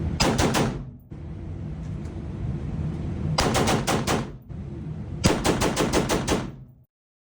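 Rapid automatic gunfire in a first-person video game, loud close bursts of machine-gun shots in three separate strings over a steady background rumble, with no talking.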